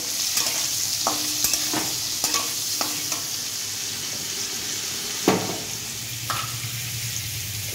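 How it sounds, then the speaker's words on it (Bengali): Steady sizzling of turmeric frying in a pan, with occasional scraping and stirring clicks from a utensil throughout. "এবার হলুদ দিয়ে দিচ্ছি, হালকা একটু ভাজাও।"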